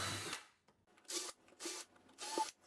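Power drill pre-drilling holes in cedar boards for a planter box: four short whirring bursts of about a quarter second each, separated by quiet pauses, close and fairly faint.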